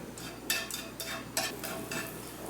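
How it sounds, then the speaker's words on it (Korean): Zucchini and shiitake mushrooms stir-fried in a pan for kalguksu, with a soft background sizzle and several bursts of spatula scraping and tossing, close by. "호박 볶아주시고요. 그리고 표고 가서 쭉 볶아주세요."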